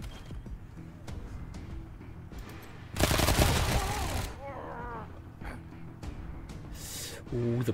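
Heavy machine turret fire in the video game Wasteland 3: a dense burst of rapid gunfire lasting about a second, set among quieter game effects and a short later burst, with a voice speaking faintly.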